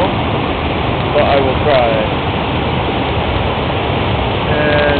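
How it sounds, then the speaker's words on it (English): A very high waterfall in a canyon on Naeyeon Mountain near Pohang, South Korea, gives off a loud, steady roar of falling water, with someone talking briefly over it. "This is a very high waterfall"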